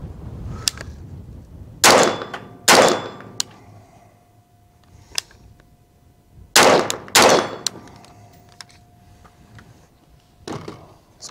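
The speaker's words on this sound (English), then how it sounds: "first gun up is going to be the Carmel" An IWI Carmel rifle fires at an outdoor range, with loud, sharp reports in pairs and singles and metallic ringing between them, spread over several seconds.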